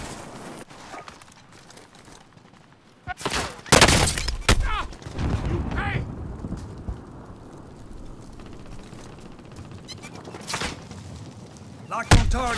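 Gunfire in the video game Warzone: a burst of loud, close shots with bursts and rattles that fade into rumbling combat noise, followed by scattered later shots.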